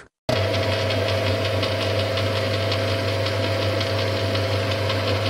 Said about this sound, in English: Here I am turning down stock.